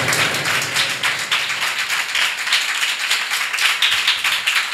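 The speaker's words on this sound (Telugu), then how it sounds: "చప్పట్లు కొడదాం గట్టిగా" A church congregation at a Sunday service claps loudly and continuously, a dense crackle of many hands with slight rhythmic surges, and no voices over it.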